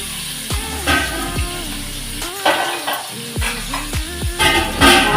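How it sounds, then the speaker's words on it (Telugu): Onions hit hot oil in a pan for a raw mango fish curry, a steady sizzle broken by repeated metal spoon scrapes and clinks against the pan. "నూనె కాగిందండి. నెక్స్ట్ మనం ఆనియన్స్ వేసుకోవాలి."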